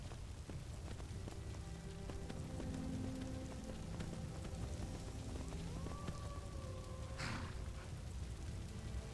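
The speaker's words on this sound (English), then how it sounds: "it's raining" Rain falling in the Skyrim video game, a dense steady hiss of drops on surfaces alongside faint tonal music, with a brief burst of noise near the end.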